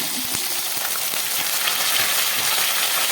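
Potatoes and green chillies fry in a pan with a steady, dense sizzle that holds evenly throughout, close and fairly loud, with a few faint clinks over the bubbling and no voices.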